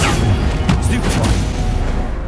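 A Stupefy stunning spell cast in Hogwarts Legacy lands as a loud booming impact, followed by crackling blasts and a rumbling tail, set against a dense game soundscape.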